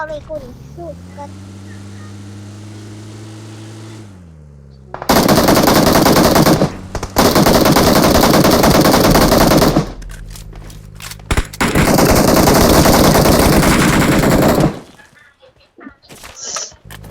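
Automatic gunfire in the PUBG Mobile video game: long, loud, sustained bursts of rapid shots broken by short pauses, following a steadier mechanical tone, with voices faintly mixed in.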